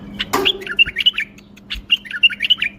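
A caged bulbul sings a bright, rapid run of warbling chirps and whistled notes in two bursts, close and clear over a faint low hum, with a sharp knock near the start.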